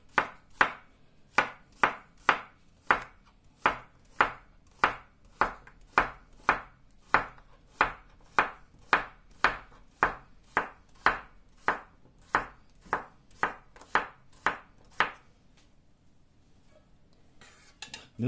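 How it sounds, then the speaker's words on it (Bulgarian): A knife chops a cucumber for Shopska salad, striking the cutting board in a steady, evenly spaced run of about twenty crisp, close chops before stopping. "Така, нарязваме другата краставица."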